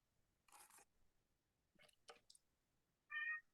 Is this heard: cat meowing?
yes